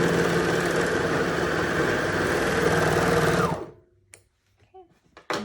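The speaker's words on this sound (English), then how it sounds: "So we're just gonna go serger for this entire bra." A serger runs continuously at high speed stitching along the top edge of a bra, loud and steady for about three and a half seconds before stopping, followed by a few faint handling clicks.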